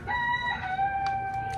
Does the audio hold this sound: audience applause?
no